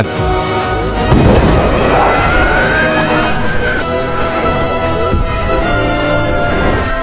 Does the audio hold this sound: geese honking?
no